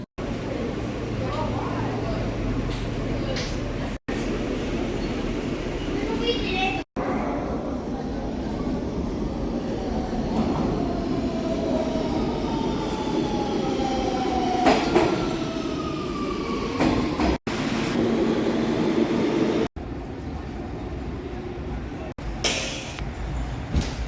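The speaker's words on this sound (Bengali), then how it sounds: "এই তিন চার মিনিটের ভিতর ট্রেন চলে আসবে" A New York subway train pulls into a station: a loud, building rumble with clattering wheels and rising metallic squeals, and people talking over it throughout.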